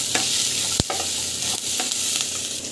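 Nuts sauté in hot oil in a pan with turmeric and asafoetida, giving a constant close sizzle broken by a few scraping stirs and no talking.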